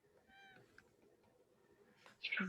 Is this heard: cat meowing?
yes